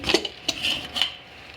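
Pressure cooker lid being opened after three whistles while cooking ridge gourd sambar: a few sharp metallic clanks and scrapes close by, followed by quiet.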